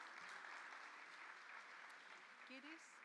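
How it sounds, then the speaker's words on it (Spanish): An audience at a hospital humanisation conference applauds a speaker, steady massed clapping throughout, very faint and distant, with a hint of voices underneath. "Un aplauso para ella."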